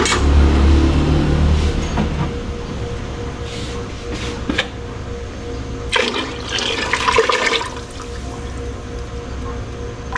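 Water pours steadily into a pot of macaroni soup in a home kitchen, a continuous splashing gush that rises and falls in intensity over about ten seconds.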